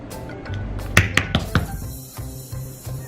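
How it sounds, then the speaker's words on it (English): Tap shoes strike a hard floor in a quick cramp roll, a cluster of sharp bright taps bunched near the middle, followed by a few lighter scattered clicks in a quiet room. "from there, you're gonna do a cramp roll in second."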